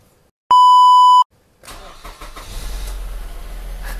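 A Mazda CX-7 with a 2.2L turbo engine: a single electronic chime sounds first, then after a short pause the engine cranks and catches, settling into a low, steady idle close by.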